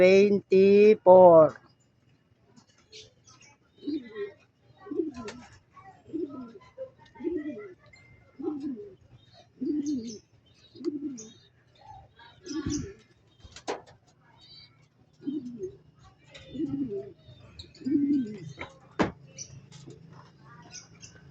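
Perched racing pigeons coo during a training flight in Santa Rosa, Laguna, giving a slow series of soft, low, evenly spaced calls after a short burst of talk.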